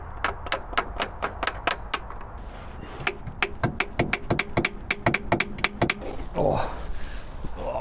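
Repeated hammer taps on the starter solenoid of an abandoned Triumph Dolomite, sharp metallic strikes in quick bursts with short pauses, close and fairly loud, ending in a rustle of handling.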